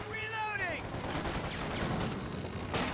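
Artillery bombardment in Company of Heroes 2, a World War II strategy game, as a steady wash of explosions and gunfire rumbles continuously throughout, with a sweeping whistle early on and a sharper burst near the end.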